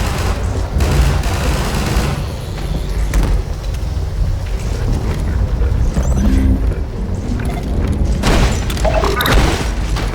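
Grenade explosions in the shooter Entropy: Zero 2, heavy booms and gunfire packed into a loud, chaotic stretch with mechanical clatter, several bursts rising near the end, a voice partly buried beneath.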